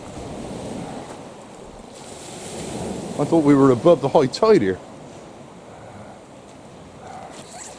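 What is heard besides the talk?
sea waves breaking on the shore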